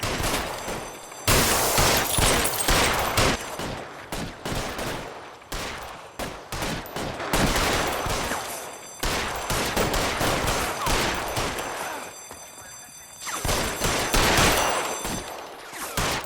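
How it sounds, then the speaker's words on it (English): Heavy gunfire in the video game L.A. Noire, loud overlapping bursts of shots and rapid automatic fire sustained through the clip, dense and close with brief dips between volleys. "More shooting."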